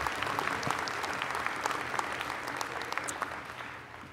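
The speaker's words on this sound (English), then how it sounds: "So let's give them a round of applause." A graduation ceremony audience applauds, a dense wash of many hands clapping at a moderate distance, holding steady before tapering off slightly at the end.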